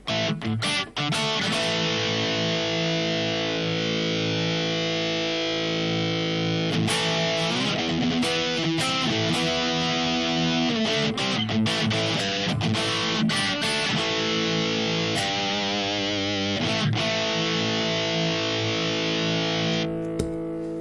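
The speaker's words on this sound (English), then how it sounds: "If you want to have more gain, you need to use drive pedal." Electric guitar through an SD-1 overdrive pedal into a Blackstar Amped 1, loud and sustained distortion, playing strummed chords and riffs with brief pauses between phrases.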